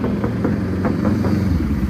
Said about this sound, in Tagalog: Yung tunog ng makina, diesel yan.